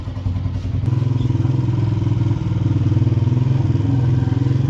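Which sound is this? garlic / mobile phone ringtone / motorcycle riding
motorcycle riding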